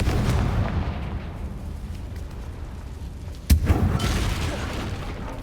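A Confringo fire spell bursts in Hogwarts Legacy, one sharp loud boom partway through, then a rumbling tail over steady low game ambience.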